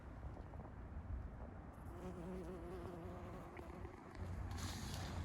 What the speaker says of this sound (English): And this bumblebee is still here.